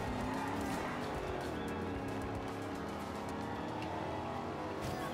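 Racing car engine from the video game Forza Horizon 2 roars loud and continuous, with tire noise and shifting revs throughout, no voices over it.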